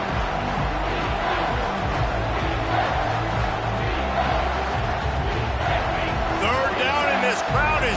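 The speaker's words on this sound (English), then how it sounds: "This crowd is tearing the lid off this place" A stadium crowd roars steadily and loudly in a College Football 25 video game, a dense continuous wall of cheering with an announcer's voice faintly underneath and some whistles near the end.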